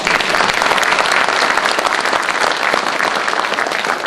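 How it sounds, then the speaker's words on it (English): Loud, continuous crowd applause at a community group meeting, sustained and even for the whole stretch with no voices standing out. "Give yourselves a round of applause for that"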